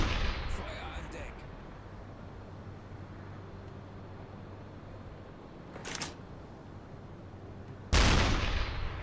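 A submarine deck gun fires in the UBOAT video game, two sharp loud blasts spaced a couple of seconds apart over a low ambient hum, with a shorter crack at the start.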